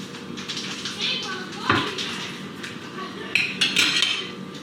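Utensils scrape and clink against a crock pot while a cooked turkey is lifted out and seasoning is scraped off, a few close metallic knocks and taps under steady kitchen talk.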